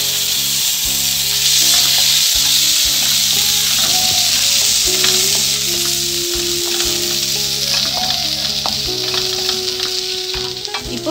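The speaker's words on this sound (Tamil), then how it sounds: "நான் இஞ்சியும் பச்சை மிளகாவையும் சேர்த்துக்கிறேன்" Ginger and green chillies frying in a pan alongside fried dal, a loud, dense, continuous sizzle with stirring and faint scraping, close up and without talk.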